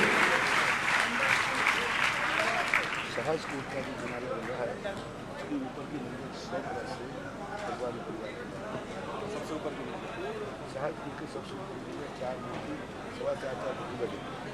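Loud audience applause fills a Jain religious gathering, strongest for the first few seconds, then continuing as a steady dense clapping wash with voices mixed in.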